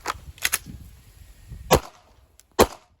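A handgun fires a quick pair of shots, then after a pause a single third shot, the sharp cracks loud and close at an outdoor range with quiet between them.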